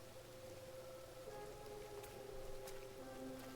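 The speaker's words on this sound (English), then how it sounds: "You're sneaking up in the middle of the night when it's pouring rain outside." Steady rain pours outside at night in the video game Tell Me Why, a constant wash of hiss with faint scattered drops and a low background hum, no voices.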